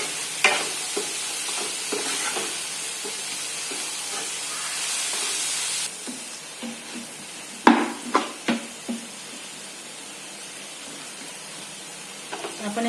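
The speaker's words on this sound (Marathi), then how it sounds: "तेलात परतलेली कोथिंबीर, त्यामुळे भाजी एकदम छान लागते." Vegetables and coriander stir-fried in oil in a Marathi home kitchen, with a steady sizzle that softens partway through, then a few sharp scraping clatters of a spatula against the pan.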